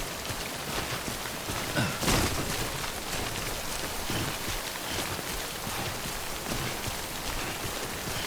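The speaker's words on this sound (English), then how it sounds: "Don't stay out in the rain any longer than you have to." Timefall rain in the Death Stranding Director's Cut game pours steadily, a dense close wash of raindrops with a brief louder gust partway through.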